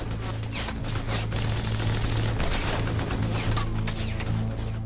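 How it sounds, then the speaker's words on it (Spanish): Rapid volleys of gunfire as troops shoot their way through a Waffen-SS barricade near a village, dense and loud with overlapping bursts sustained throughout. "Y disparan para abrirse camino."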